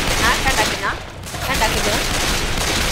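Dense, continuous gunfire in Left 4 Dead 2 rattles close and loud, with a brief dip before the shooting resumes.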